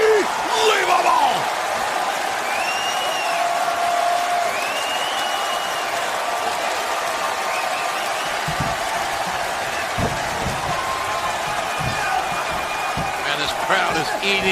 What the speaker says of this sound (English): And this crowd is eating this up.